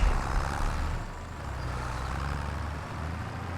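Tractor engine in Farming Simulator 25, a steady low diesel rumble with a broad mechanical drone that dips slightly midway then holds constant, heard alone without speech.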